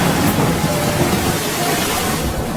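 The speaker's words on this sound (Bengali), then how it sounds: "আর এমন সময় বৃষ্টি নামে।" Rain falls steadily as a broad, rushing hiss, fairly loud and close, with a low rumble underneath.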